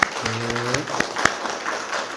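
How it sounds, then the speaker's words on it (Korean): A church congregation claps to welcome two new young women, a continuous mass of applause with a few sharper individual claps standing out, and a voice briefly sounding over the start. "우리 큰 박수로 환영하겠습니다"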